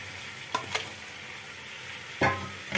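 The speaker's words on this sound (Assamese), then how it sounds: "আৰু দি এনেকে লৰাই দিছো গোটেইখিনি মিক্স কৰি দি দিছো" Mixed vegetables being stir-fried together with pre-fried paneer: a continuous soft sizzle with a couple of clattering stirs early on and a louder scraping toss near the end, close up with no talking.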